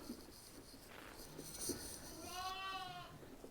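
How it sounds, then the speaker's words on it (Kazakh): Sheep bleat in a farmyard, with one wavering call rising clearly above a soft background of shuffling and low murmurs, heard at a moderate distance. "буаз қойлармен осында. Анда тұрғандары ол туған қойлар."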